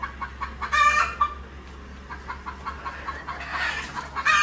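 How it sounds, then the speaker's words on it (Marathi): Chickens cluck repeatedly at moderate distance, with scattered short calls over a steady low hum. "हो, 100 ते 110 कोंबड्या आहेत"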